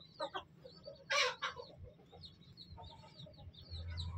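Aseel rooster and hens clucking close by in short scattered bursts, with one louder squawk near the middle, over a faint low background rumble.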